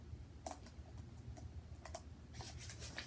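Adhesive tape wrapped around a plastic bottle gives off faint, irregular crinkles and ticks over a low steady hum, quiet and close with no talking.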